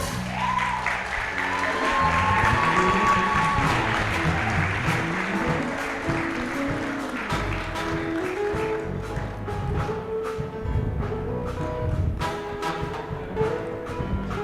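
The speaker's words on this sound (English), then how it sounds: "A round of applause for her." Sustained applause from a large award ceremony audience, steady clapping filling the room for the whole stretch, with faint background murmur.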